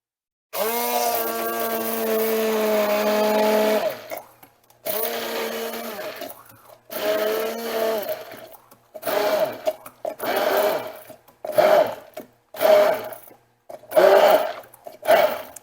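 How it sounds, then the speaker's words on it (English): An immersion blender whirs through basil and olive oil for pesto, first in one long sustained run of several seconds, then in a series of shorter on-off bursts with brief pauses between, loud and close. "I'm going to use an immersion blender for this today."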